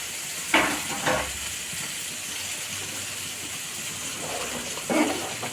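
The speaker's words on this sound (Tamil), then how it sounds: "நல்லா கொதி வந்துடுச்சு." Mutton curry bubbles at a steady boil in a pot, giving a soft continuous hiss broken by a few brief clunks and knocks near the start and end.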